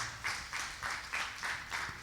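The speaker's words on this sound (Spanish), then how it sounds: "Dale un aplauso al Señor." A church congregation claps after a testimony of healing, producing faint, fairly rhythmic bursts of applause that pulse steadily for a couple of seconds.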